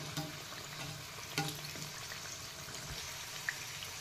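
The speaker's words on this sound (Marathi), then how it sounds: "मग आता आपले भजी मस्त फ्राय झाले" Potato bhaji fritters deep-fry in oil, a faint, steady bubbling sizzle with occasional soft clinks, no talking.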